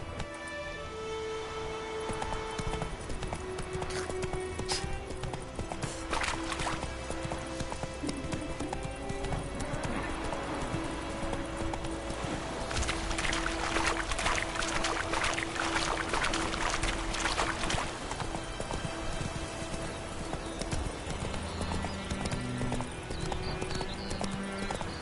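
A horse gallops across open ground in The Witcher 3, with hooves clip-clopping steadily and fairly softly over a continuous game backdrop of wind and ambience that swells midway.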